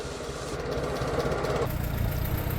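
Allis Chalmers D12 Series 3 tractor engine idling nearby, a steady low putter and throb that shifts tone partway through, loud and continuous with no talk.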